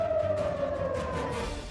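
An air raid siren sounding in Israel, a steady wailing tone that drifts slowly downward in pitch, loud and continuous across the whole short stretch with no voices over it.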